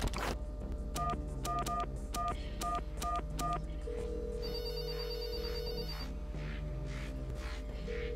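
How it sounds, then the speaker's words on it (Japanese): Telephone sounds in the video game There Is No Game: a quick run of repeated dial-tone beeps, then a sustained electronic ringing tone, heard alongside game music and light background noise. "電話。"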